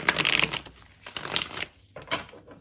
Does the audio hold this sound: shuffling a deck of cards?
yes